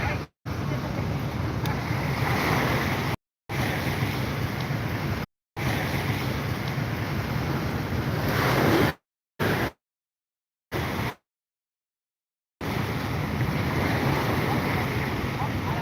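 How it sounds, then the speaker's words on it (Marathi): Water released through six spillway gates of the Manjara dam in Beed rushes in a steady, loud roar with wind buffeting the microphone, broken by several short silent gaps. "मांजरा धरणाचा हा सांडवा आहे आणि ह्या सांडव्यातून सहा दरवाजातून जाणारं पाणी सोडलेलं आहे"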